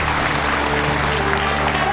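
A television studio audience applauds steadily and loudly to welcome host Ni Ping onto the stage, a dense, continuous wash of many hands clapping.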